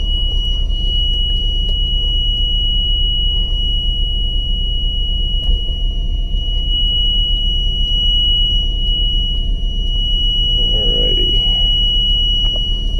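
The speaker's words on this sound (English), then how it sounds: "this little alarm and indicator light stays on until the last inch of jack is all the way up on all 4 of them" An RV's leveling jacks retract with their warning alarm sounding: a steady, high-pitched electronic tone holds continuously over a constant low engine rumble.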